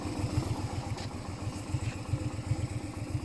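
A Honda Shadow 125cc V-twin motorcycle engine idling nearby, a steady low, even putter with a quick regular pulse and no voices.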